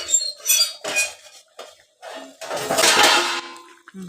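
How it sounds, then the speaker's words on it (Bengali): Metal pot lid lifted off a pot of simmering Bengali chicken curry with potatoes, giving a few clanks and scrapes followed by a louder burst of bubbling and steam, close and with no talk. "দেখি এবার ঢাকনাটা খুলে কি পজিশন।"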